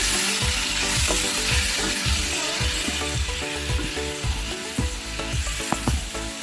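Turmeric frying in oil in a pan for banana flower biryani makes a loud, constant sizzle, overlaid with rhythmic scraping strokes from a spatula stirring close by.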